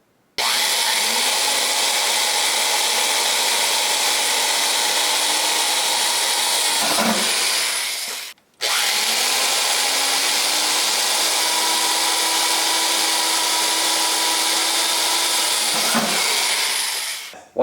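A power drill bores fan mounting holes through a computer case top in two long sustained runs, each spinning up, holding a steady high whine and cutting off, with a brief silent gap between them.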